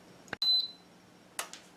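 A pancake and waffle batter mixer and dispenser gives one short, high electronic beep once it has warmed up, set between a couple of faint clicks and handling noises in a quiet room.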